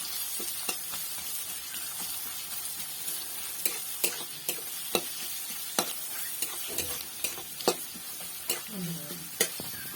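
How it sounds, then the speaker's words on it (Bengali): Chopped onions fry in oil with dried red chilies and whole cumin, a steady close sizzle broken by frequent spatula scrapes and clicks against the pan as they are stirred. "দিয়ে দিচ্ছি দুটো বড় সাইজের পেঁয়াজ কুচি। দিয়ে এটিকে হালকা নেড়ে চেড়ে নেব।"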